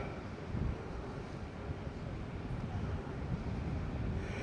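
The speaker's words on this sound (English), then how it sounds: "there's a funny little gust of wind caught the drone there" Wind gusting against a drone's microphone near Agios Georgios in Peyia, a continuous low buffeting rumble with a slightly stronger surge early on, faint and unbroken.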